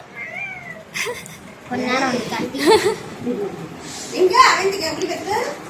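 A cat meows repeatedly nearby, several plaintive cries mixed in with people talking close by.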